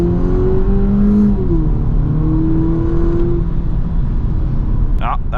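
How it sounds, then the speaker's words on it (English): A 207 hp VW Polo GTI on winter tires accelerating hard from a launch-control start to 100 km/h, its engine note rising steadily through the gears as a loud, continuous in-cabin drone, with a brief clatter near the end. "So next try, launch control 0 to 100."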